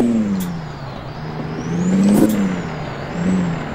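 A heavy truck engine in American Truck Simulator, hauling a long lowboy trailer, revs up and down through uneven gear changes. The drone swells and falls in waves, with brief air hisses on top.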